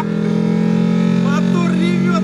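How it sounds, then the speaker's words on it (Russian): A VAZ 2101 car fitted with a Nissan Silvia engine roars in a steady, loud drone close by, with voices talking over it. "Мотор ревёт просто!"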